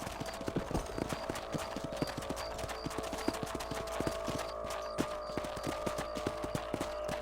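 Steady clip-clop of horse hooves as a mount is ridden across a ranch property in the video game Red Dead Redemption, a continuous close, even rhythm of hoofbeats with light background ambience throughout.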